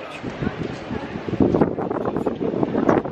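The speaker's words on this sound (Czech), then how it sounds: "Dneska je teda ale fakt vichr" Strong gusty wind buffets a microphone outdoors, a loud, constant rumbling roar with surging bursts, while someone talks over it.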